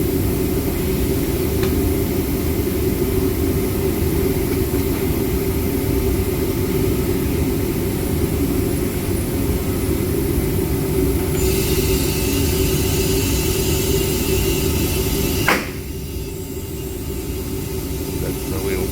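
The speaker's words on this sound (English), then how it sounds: "That's the wheel popping." A tyre bead seats onto a wheel rim at a tyre fitting shop during inflation: a long, loud, steady rush of air ends in one sharp pop, after which the hiss drops a little.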